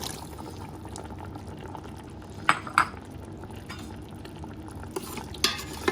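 Tender cooked beef for karahi is stirred in a pot. A spoon scrapes and clinks against the metal in a steady rhythm over a low simmering bubble, with a few sharper knocks.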